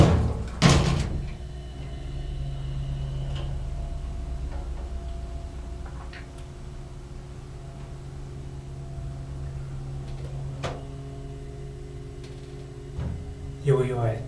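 A Dover hydraulic elevator in the Austin Theater Arts Building rides upward before modernization, giving a steady low motor and pump hum with faint ticks and a door clunk near the start and end.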